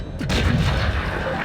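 A tank cannon fires once in World of Tanks Blitz, a loud, booming blast that rolls off into a rumbling tail, with no talk over it.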